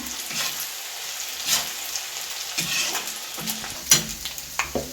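Ginger, garlic and bird's eye chilies frying for a Kerala anchovy fish pickle sizzle softly beneath repeated stirring scrapes and a few sharp metallic clinks of a spoon against the pan, close by, no voices.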